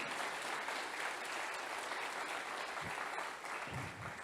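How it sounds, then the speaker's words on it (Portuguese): A church congregation applauding during a sermon, steady dense clapping filling the space at a constant level throughout, with no voices standing out. "Aplaude Ele, por isso aplaude."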